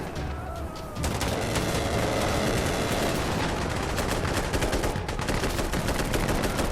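Sustained gunfire in the video game Insurgency Sandstorm, including an AK105 Zenitco rifle, with rapid overlapping shots and bursts that start after a brief lull and keep going loud and dense to the end.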